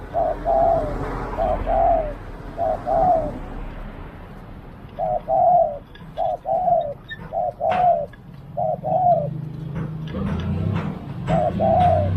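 Repeated spotted dove coos in short phrases of two or three soft notes, fairly close, with quiet gaps and faint background chirps and rustling.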